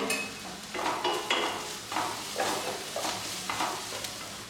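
Onions sautéed with ginger garlic paste in a pan for a tofu curry give a soft, steady sizzle, broken roughly every second by the scrape of a spoon stirring, with no talking.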